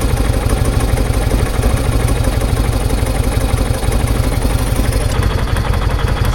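A Kawasaki Vulcan motorcycle engine idles steadily after a carburetor clean, a loud, close, even clattering throb with a rapid regular pulse and no pauses, heard alone without voices.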